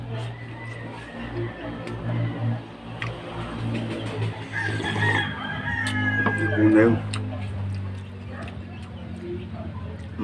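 A rooster crows amid a busy outdoor soundscape, with a steady low hum, scattered clatter and other fowl sounds around it.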